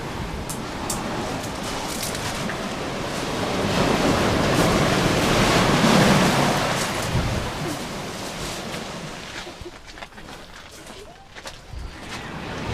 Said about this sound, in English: Well, there's the ocean